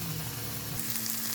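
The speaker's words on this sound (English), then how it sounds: "Now they're back in the pan and just sizzling away." Meatballs sizzle away in a frying pan, a dense, steady crackling hiss close up with no pauses and a faint low hum underneath.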